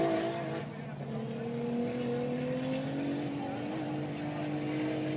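A Car 42 race car with a 3.5 litre twin turbo engine accelerates hard on a dirt track at the Gundy 500, its engine tone climbing steadily and loudly throughout, with crowd and track noise behind it.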